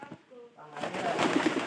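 Domestic pigeons give soft, low coos close by, followed by a louder burst of rustling, fluttering noise with more cooing beneath.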